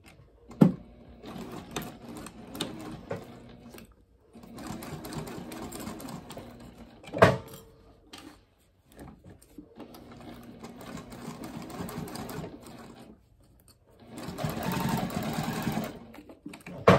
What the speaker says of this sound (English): I still have my standard size 18 needle and size 4 stitch length.